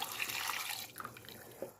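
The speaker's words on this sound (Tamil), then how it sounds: "நம்மளுக்கு எவ்வளோ வேணுமோ அவ்வளோ தண்ணி ஊற்றிக்கலாம்." Water pours into a cooking pot of soaked kabul chana (chickpeas) and potato for a Tamil chana curry, a steady close splashing stream that thins toward the end, with no talk.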